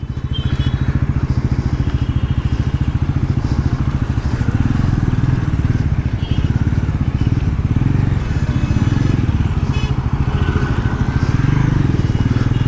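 A 2024 Bajaj Pulsar NS400Z motorcycle engine drones steadily and close on a city road, its loud rumble holding through the whole stretch with slight rises as it rides along.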